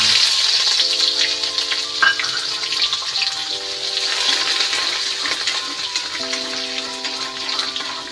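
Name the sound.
ginger and garlic frying in sunflower oil with mustard seeds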